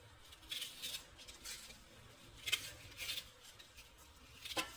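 A knife chops an onion on a board while rice for Yemeni oven-baked chicken mandi is being prepared, giving soft, separate cutting taps at an uneven pace, quiet and close, with no talking.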